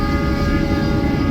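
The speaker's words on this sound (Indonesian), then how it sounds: "untuk saat ini kereta api Bima yang aku naikin sedang berada di kecepatan 100 sampai dengan" Inside the Bima long-distance passenger train cruising at 100 to 115 km/h, a loud, continuous low rumble of wheels and carriage is laced with a steady mechanical hum, with no one speaking.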